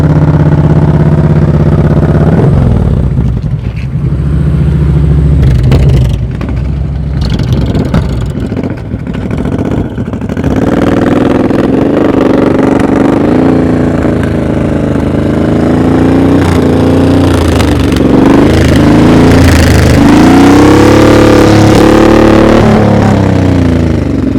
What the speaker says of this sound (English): he's got enough throttle, but he's not letting the clutch out enough.